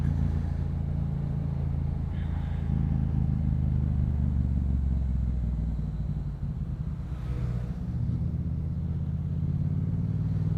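Loud, continuous engine rumble from a Yamaha MT-07 riding through heavy traffic, holding a steady low drone with small throttle changes and a brief dip midway, surrounded by nearby vehicles.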